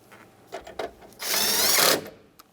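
A power screwdriver drives screws back into the dash of a 1992-1996 Ford F-150, with a few short clicks and handling sounds followed by one sustained whirring burst of about a second, close and alone.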